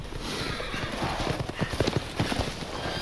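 Rapid hoofbeats clatter in quick rhythm as horses gallop over a dense background of noise in the video game Resident Evil Village.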